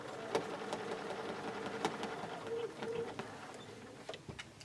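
A sewing machine quilting stitch in the ditch, with a quiet continuous mechanical hum broken by small clicks and taps, fairly faint, with a voice talking over it at times.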